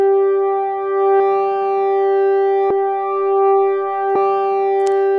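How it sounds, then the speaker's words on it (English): A synth patch built from stock Ableton devices holds a sustained tone with a pure sine-wave sub bass underneath. Note attacks repeat about every second and a half. "Now we're gonna add back our sub, which is just a sine wave"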